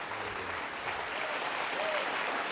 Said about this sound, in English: thank you for that applause